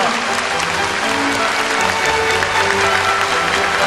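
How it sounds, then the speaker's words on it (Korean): A large audience at a ceremony claps in a dense, continuous wave of applause, loud and steady throughout as the guests of honour enter. "뜨거운 박수로 맞아요 주시기 바랍니다"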